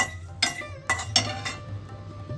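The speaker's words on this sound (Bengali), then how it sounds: "মৌরি আর শুকনো লঙ্কাটাকে আমরা খুব ভালোভাবে ড্রাই রোস্ট করে নেব।" Fennel seeds and dried red chillies dry-roast in a pan, with a spatula clinking sharply against the metal four times at irregular intervals over a faint background hum.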